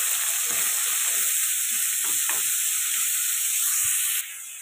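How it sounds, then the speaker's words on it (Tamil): Onions and curry leaves sautéing in a pan for mutton curry, a steady bright sizzle throughout with a few soft stirring scrapes, close and continuous, dropping slightly quieter at the very end. "நல்லா வதங்கட்டும்."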